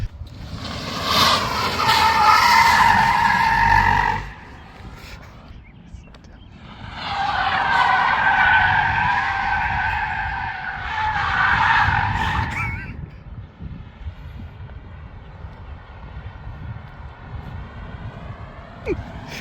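A Tesla Model Y drifting, its tires letting out two long, loud skidding squeals separated by a short lull, followed by quieter engine-free tire noise.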